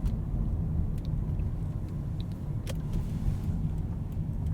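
Steady car engine and tire rumble from driving along a park road through Mohegan Park in Norwich, Connecticut, after a snowstorm, a continuous low drone with a brief faint click midway and no talking.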